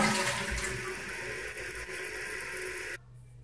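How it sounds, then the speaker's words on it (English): A Kohler Highline toilet flushes quickly in a near, steady rush of water lasting about three seconds, then cuts off sharply to a quiet tank refill hiss. "I'm going to show you how it looks flushing it really quickly."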